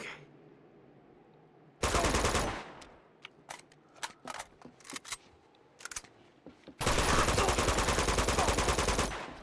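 Gunfire in Uncharted 2 Among Thieves Remastered: a loud sustained automatic burst, then a scatter of sharp single shots, ending in another long rapid-fire burst, close and dominant with no talk.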